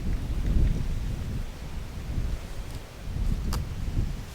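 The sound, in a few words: wind blowing on microphone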